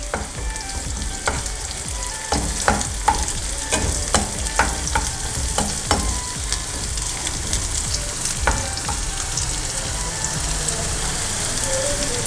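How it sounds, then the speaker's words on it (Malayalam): Long-cut carrot pieces stir-frying in a hot pan for spicy ginger chicken, a steady close sizzle with crackles and repeated scrapes and knocks of a spatula stirring, and no talk over it. "ഇതിലേക്ക് അടുത്തതായിട്ട് നമുക്ക് ക്യാരറ്റ് പീസസ് ചേർത്ത് കൊടുക്കാം."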